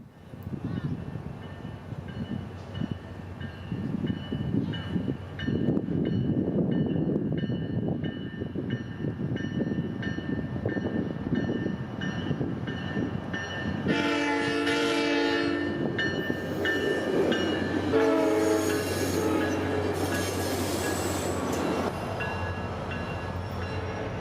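A passenger train rumbles past in Orlando on the Central Florida Rail Corridor with rising rail noise, then its horn blasts in several long, loud tones over the rolling wheels.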